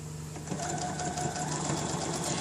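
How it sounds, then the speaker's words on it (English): Sewing machine stitching recycled t-shirt fabric on a diagonal, a steady close rapid whirring hum that runs without pause. "I'm just going to sew it at a diagonal from there."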